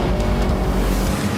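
BMW X5M in sports mode on the Nürburgring Nordschleife, a loud, continuous engine roar mixed with rushing wind and tyre noise at speed.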